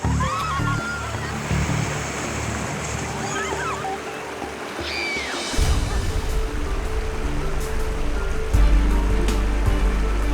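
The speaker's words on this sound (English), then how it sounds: "For a bit of fun and adventure, Farmer Russell's taken his girls whitewater rafting." A rushing whitewater river roars loudly and steadily during a rafting trip, a dense churning wash that swells near the end, with voices faintly audible beneath the water.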